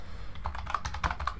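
Rapid keystrokes on a computer keyboard during a coding lesson, a quick burst of close, crisp clicks in an uneven rhythm over a low background hum.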